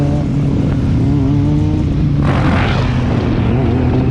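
Suzuki DRZ supermoto motorcycle engine revving hard during wheelies, a loud, close, continuous roar that surges as the throttle opens, with heavy wind buffeting throughout.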